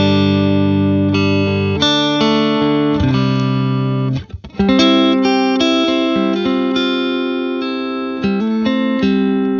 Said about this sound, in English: I'm playing a Telecaster into a Matchless Clubman.